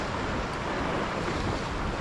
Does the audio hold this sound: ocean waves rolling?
yes